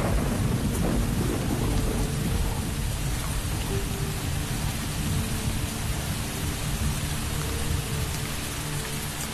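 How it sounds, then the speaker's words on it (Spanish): Heavy thunderstorm over eucalyptus forest where koalas shelter, with steady loud rain and deep rolling thunder rumbling throughout, no voices. "Lo único que estos pueden hacer es esperar a que pase la tormenta."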